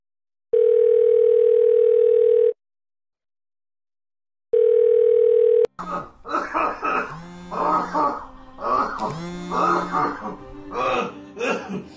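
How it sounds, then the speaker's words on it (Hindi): Telephone ringback tone heard while calling a number: two long, loud steady tones separated by a silent gap, followed by a voice talking. "मैं उसके नंबर पर कॉल लगा लेता हूँ"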